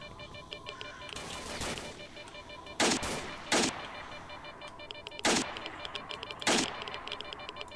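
Heavy gunfire in the video game S.T.A.L.K.E.R. Shadow of Chernobyl with the OGSE mod: four sharp, loud single shots at uneven intervals, each with a short echoing tail over a steady ambient background.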